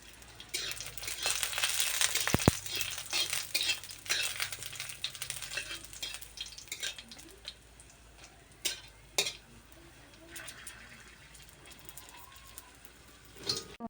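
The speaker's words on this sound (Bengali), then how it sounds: "মরিচটাকে ভেজে নেব তাহলে ভেতর থেকে অনেকটা মুচমুচে হবে" Dried red chillies and garlic fry in hot oil, giving a continuous close crackling sizzle that is busiest early on, then thins to scattered pops and occasional stirring knocks.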